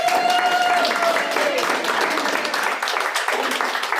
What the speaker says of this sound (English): Can we give Evan Lewis a huge round of applause